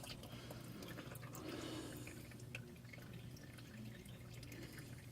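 Old engine oil draining from a 2000 Toyota Echo, a faint steady trickle of liquid with occasional drips running continuously, quiet and close, with no talking.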